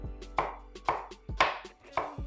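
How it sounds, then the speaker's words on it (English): A knife dices onion on a cutting board, about five crisp, close strikes with short pauses between, no talking. "we're dicing the rest of a full cup of onion."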